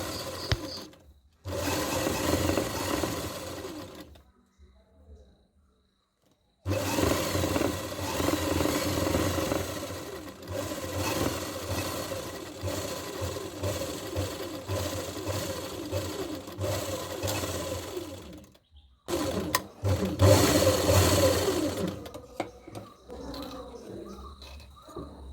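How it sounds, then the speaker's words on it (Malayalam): A sewing machine stitches several layers of elastic thread in close, steady whirring runs, stopping briefly between bursts of stitching. "പ്രസർ വീതിക്ക് തൊട്ടിപ്പുറത്ത് വെച്ചിട്ടാണ് നമ്മൾ തയ്ക്കുന്നത്"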